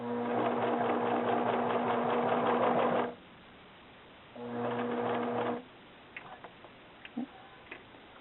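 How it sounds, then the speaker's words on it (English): A sewing machine runs a straight stitch along a jacket seam in two steady bursts of rapid, even ticking. A longer run is followed by a pause and a shorter run, then a few faint clicks as the fabric is handled. "that's just sewing 1 inch along that normal seam line"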